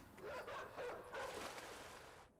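Dog in a video game barks and yips in a few quick, muffled bursts, fairly faint and slightly distant.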